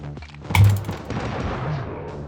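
Gunfire in the mobile shooting game Johnny Trigger: a sharp, loud double shot near the start followed by a dense burst of rapid crackling shots that trails off, close and punchy.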